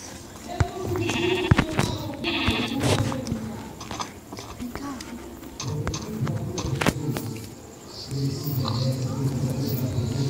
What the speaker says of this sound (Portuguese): outra ovelha.